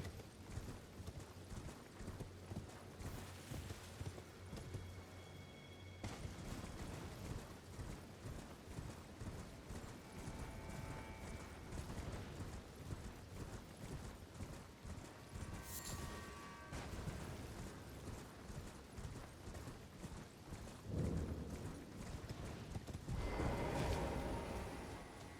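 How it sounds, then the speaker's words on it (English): A horse gallops across open ground in the video game Elden Ring, with faint, rapid hoofbeats blended into a dense wash of game ambience and background score throughout. "I could just teleport there, but I'll just go on horseback."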